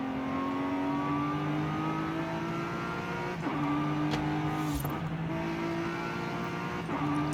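A race car's engine in a racing video game holds a steady, loud, high-pitched rev, broken by two brief dips like quick gear shifts, with no talk over it.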